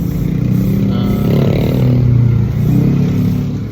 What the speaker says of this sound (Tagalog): maingay yung motor